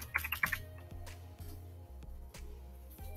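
Fingers typing on a computer keyboard, a quick cluster of sharp, close key clicks at the start, then a few sparse, softer taps spread out over a quiet background.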